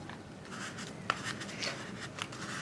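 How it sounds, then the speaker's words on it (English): Squeegee pressed along vinyl wrap film on a vehicle, working it down to the edge of knifeless tape: soft, steady rubbing and swishing strokes with a few sharper squeaks, close and fairly quiet, no talking. "we're going to get our squeegee, and we're going to make sure that we work the film down right up to the edge"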